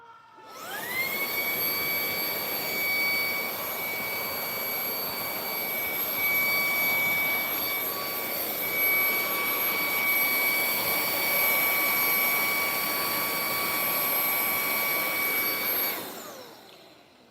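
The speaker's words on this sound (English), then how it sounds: "Use my vacuum again for a second" A vacuum cleaner whines up to full speed during work on a Traxxas XRT radio-control truck, holding a loud, steady high-pitched drone with tonal harmonics for about fifteen seconds before spinning down.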